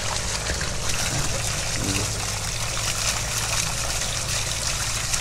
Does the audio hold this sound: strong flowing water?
yes